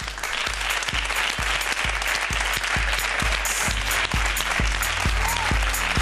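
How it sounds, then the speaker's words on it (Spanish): Studio audience applauding a guest, the educator José Antonio Marina, a continuous full round of clapping with a few sharper claps standing out, steady and fairly loud throughout. "Un aplauso para José Antonio Marina"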